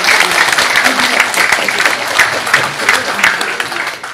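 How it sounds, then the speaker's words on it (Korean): Audience at a book launch clapping loudly and steadily, a thick continuous burst of many hands with faint crowd murmur, no clear speech over it. "김남성 대변인께 다시 한번 뜨거운 축하의 박수 부탁드리겠습니다"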